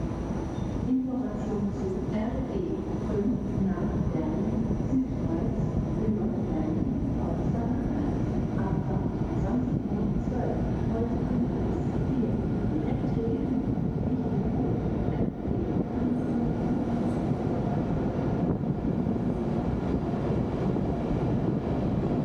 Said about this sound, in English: our night train starts moving